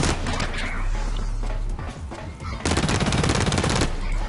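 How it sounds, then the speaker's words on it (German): Rapid automatic gunfire in the shooter Blacklight Retribution, with dense close bursts of fire that continue nearly without a break and grow heavier toward the end. "Boah, da wird man auch schon beschossen und stirbt."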